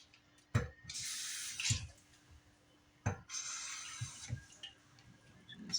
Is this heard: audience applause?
no